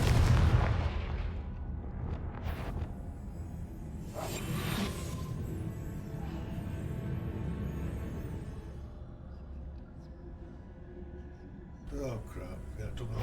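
A Confringo blasting spell goes off in Hogwarts Legacy, loud bursts and booming impacts under heavy background rumble, a big blast early and more crackling hits later, with voices talking over the fight.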